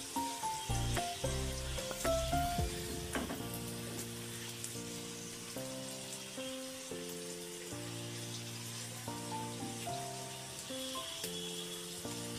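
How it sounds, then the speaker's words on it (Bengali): A noodle-filled mughlai paratha fries in oil in a pan, giving a steady, soft sizzle that runs throughout under louder tonal background music. "আস্তে আস্তে ধৈর্য সহকারে এগুলা ভেজে নেবেন"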